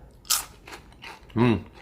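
A crunchy Japanese shrimp cracker snack bitten close up, a couple of sharp dry crunches, with a brief bit of voice near the end.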